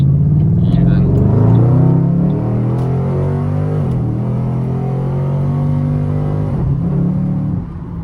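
A Ford Mustang on the road with its engine droning low and steady from inside the cabin, pitch shifting gently as it changes gear, loud and close throughout.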